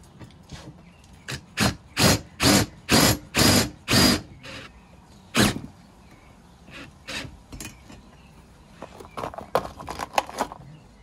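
A power drill drives self-tapping screws into a steel bumper on a RAV4, with six loud, rapid bursts of whirring, a later single burst, then softer clicks and rattles of handling nearby.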